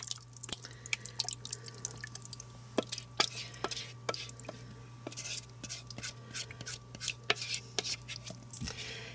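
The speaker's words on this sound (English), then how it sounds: "I've put 1 can of water in here, and that's going in here on top of these." Water from a can trickles and drips into a slow cooker over pork chops and cream of celery soup, with irregular close drips and light clinks above a steady low electrical hum.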